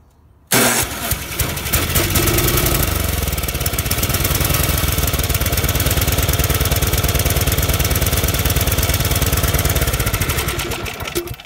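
Snowblower engine started after an oil change, catching abruptly after a brief silence and running loud and steady close by at a rough mid-pitched idle for about ten seconds before dying down.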